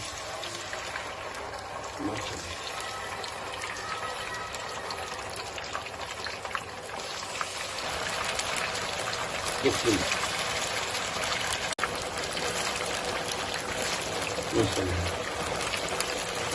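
Marinated chicken dropped into hot ghee crackles in a continuous broad hiss, steady and fairly loud throughout, with a few small bursts of spatter.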